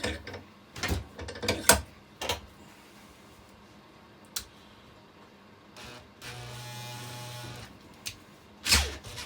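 Makita BHP combi drill with a jammed chuck on a hexagonal shaft: the motor whirs steadily under sharp ratcheting clicks and metallic knocks, close up, with a lower droning stretch partway through.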